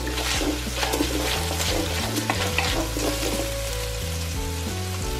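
Four garlic cloves go into a hot pan for paella, giving a steady, close sizzle of frying with stirring and scraping that continues throughout.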